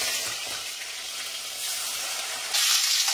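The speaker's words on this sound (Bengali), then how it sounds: "ইলিশ মাছ ভাজা হচ্ছে" Hilsa fish fries in hot oil, a close, dense sizzling hiss that carries through with a brief louder surge near the end.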